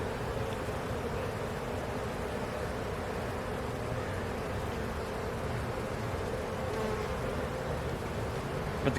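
Honeybees buzz steadily in a bee yard around an open hive, a dense, continuous hum of many insects close by with no talking.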